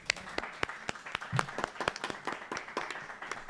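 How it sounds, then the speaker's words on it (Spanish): Small audience at a music and city talk event in Bogotá clapping, with distinct, sharp claps close by in an irregular rhythm, fairly quiet overall and with no voices over it. "Así que un aplauso."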